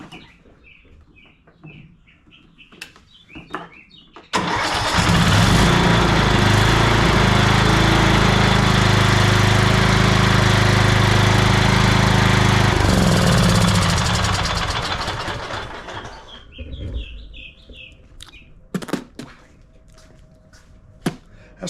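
A Troy-Bilt Bronco riding mower engine starts and runs loudly for several seconds with a steady rumbling drone, then fades down and stops, with birds chirping in the background before and after.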